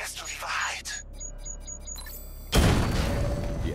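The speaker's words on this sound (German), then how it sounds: "Die Explosion hat die Hauptkanone ausgeschaltet." A loud explosion erupts in the Batman: Arkham Knight video game, a sudden broad blast that knocks out a main cannon and leaves a rumbling roar, preceded by quieter game effects and a few short electronic beeps.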